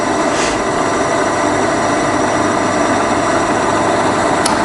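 The power feed on a Bridgeport milling machine with a 42-inch table runs steadily after reversing, a continuous loud motor hum and whine with a brief click near the end, no talk.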